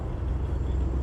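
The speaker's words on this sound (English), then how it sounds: "Mustangs have a really, really nice sound" A Ford Mustang engine rumbles steadily at moderate distance, a low throaty drone holding even with no voices over it.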